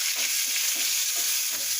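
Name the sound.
stirring dried red chilies and curry leaves in frying pan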